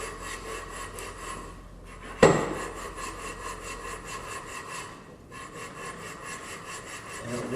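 A CanAm X3 primary clutch part is lapped by hand, back and forth, giving a steady close rasping scrape with one sharp knock partway through.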